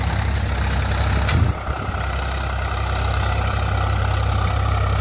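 A Swaraj 843 XM 4x4 diesel tractor runs near 1200 rpm in first high gear with no load while working a field with a disc harrow, giving a continuous low rumble broken once by a brief knock before settling back.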